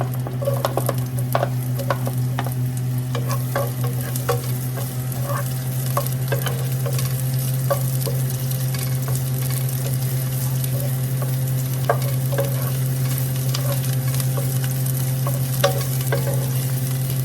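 Onions sauté in a pan for green beans with tofu, a steady close sizzle and frying crackle with occasional stirring clicks and a constant low hum underneath, no talking.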